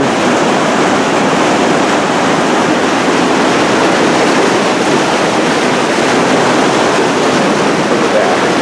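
Waterfalls rush steadily just downstream from a bridge in an outdoor filming location, a loud, continuous broadband roar of falling water with no pauses and no voices.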